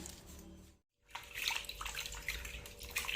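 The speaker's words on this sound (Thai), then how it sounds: "เราต้องล้างคราบเหลืองๆมันออก" Bamboo shoots being washed by hand in water make close sloshing and splashing, broken by a brief near-silent gap before the steady swishing of water returns; no one speaks.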